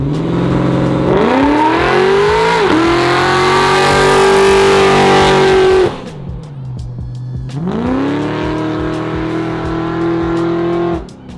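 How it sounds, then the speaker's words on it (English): A built 1996 Chevrolet Impala roars through a loud burnout, its engine revving hard with rising pitch and tire noise, dropping off briefly before a second sustained rev, close and without talk. "We're getting the burnout shot and then a flyby."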